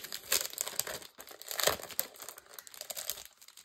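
Paper packing crinkles and crumples close up as a Temu haul is unpacked, with rustling bursts of handling and no talking.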